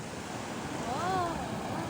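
Cold river water near Uttarkashi rushes past in a constant broad roar, close and fairly steady, with a faint brief tonal whistle rising over it midway.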